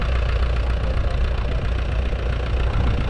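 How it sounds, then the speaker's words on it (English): Lovely old engines running at the 2025 Scottish Ploughing Championship, a steady low chugging idle throughout, mixed with heavy wind roar on an exposed field. "And also hear these lovely old engines."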